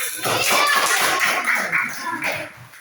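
A classroom of students clapping their hands together, a dense burst of close applause mixed with children's voices that fades near the end.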